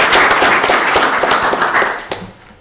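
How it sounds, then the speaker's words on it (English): Audience applause at a Melrose city council meeting, a steady wash of many hands clapping close by that tapers off near the end. "Another round of applause."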